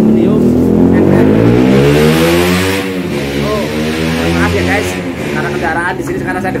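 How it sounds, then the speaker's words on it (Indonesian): Motorcycles and cars speeding past on a road near a house, loud droning engines sweeping up and down in pitch as vehicles rush by one after another, with someone talking over the traffic. "jadi kendaraan luar biasa kencengnya motor itu"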